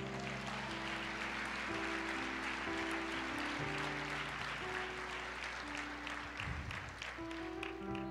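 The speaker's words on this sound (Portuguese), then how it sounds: "Aplauda o Senhor." A church congregation claps steadily throughout, a dense continuous applause over sustained organ or keyboard chords, fairly distant and even in level.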